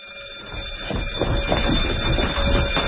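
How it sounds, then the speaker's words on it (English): A prison alarm rings out as a steady electronic tone, rising from quiet into a continuous loud sound with low rumbling beneath, and no speech is heard. "It's another false alarm."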